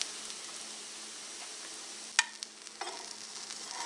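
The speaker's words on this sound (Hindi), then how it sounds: "अब नीचे वाली साइड को दोबारा पकाना है" An egg paratha fries in a pan over low heat, giving a faint, even sizzle with a few sharp clicks and taps partway through; no one talks.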